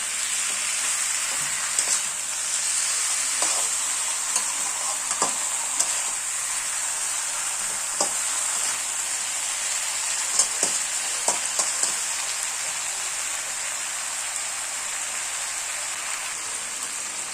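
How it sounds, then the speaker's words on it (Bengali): Duck meat frying in a little oil in a kadai, giving a steady, dense hiss with a few scattered pops and occasional stirring clicks, close and even in level, no voices. "একটা কড়াইতে অল্প পরিমাণে তেল দিয়ে তাতে মেখে রাখা মাংসগুলো ছেড়ে দেবো এবং কিছু সময় ধরে কষতে থাকবো"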